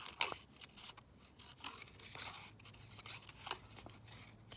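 Scissors cut out a paper flower in a quiet room. Soft, faint snips and crisp paper rustles come at close range in an irregular rhythm, with a few sharper clicks.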